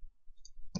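Computer mouse clicks made while placing curve points in Maya with grid snapping: a couple of short, faint, dry clicks followed by one louder, sharper click near the end, close to the microphone and heard alone.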